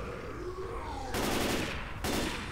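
Gunfire in the zombie co-op shooter Left 4 Dead 2: a sustained dense rattle of weapons under a continuous din, swelling into heavier bursts of rapid shots toward the end.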